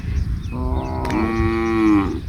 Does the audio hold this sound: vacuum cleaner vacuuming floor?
no